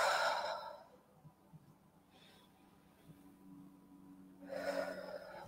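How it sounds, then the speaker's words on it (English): Heavy deep breaths taken during a guided breathing exercise, in and out through the mouth; a loud exhale opens and another closes, with quieter breathing and a low hum between. "Just heavy cleansing breaths."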